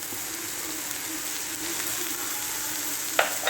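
Grated coconut gets stirred into banana flower and drumstick greens frying in a pan, producing a soft, steady sizzle with faint scraping and a couple of clinks from the spoon near the end.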